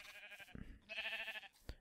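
Sheep bleating in the video game Minecraft: a couple of short, nasal bleats close up, separated by a brief thud, with no talking.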